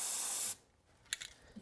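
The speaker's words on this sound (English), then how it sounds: "And for that, I'm using some spray white grease." A steady hiss of white grease aerosol spray on a snowblower auger bushing lasts about half a second, then cuts off, leaving quiet with a few faint clicks.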